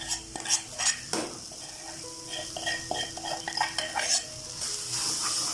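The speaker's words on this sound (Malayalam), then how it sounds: "ബീഫ് ഇട്ട് നമുക്ക് നല്ലപോലെ ഒന്ന് വഴറ്റി കൊടുക്കാം." Beef stirred and fried in a pan with coconut and onion for Kerala-style beef thoran, with a soft sizzle under repeated scraping and clinking of a spoon against the pan.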